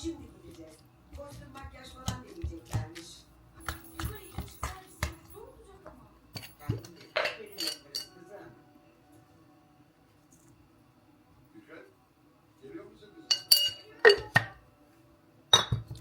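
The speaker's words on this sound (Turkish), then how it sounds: "Sonra başlıyorum ezmeye." Mashing boiled potatoes with butter and grated kaşar cheese in a bowl, with scattered clinks and scrapes of a utensil against the dish, intermittent and fairly quiet, plus a few sharper taps near the end.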